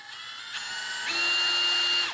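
A Milwaukee Gen 2 M12 FUEL stubby impact wrench runs free in speed 2, its motor whine stepping up in pitch as it spins up toward 2100 RPM, loud and close with no talking.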